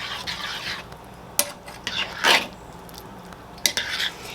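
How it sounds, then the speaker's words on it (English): A spoon scrapes and clinks against a pot of white chicken chili on the stove, with sporadic metallic knocks and soft scraping strokes at close range and no talking. "I'm just kind of keeping it stirred until it comes to a decent boil"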